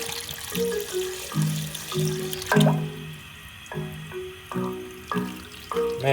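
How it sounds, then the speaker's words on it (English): Water pours and splashes in uneven bursts onto an Altec Baby Boom XL waterproof speaker, close and fairly quiet, with stop-start gushes like a running tap. "that is pouring straight into the speaker"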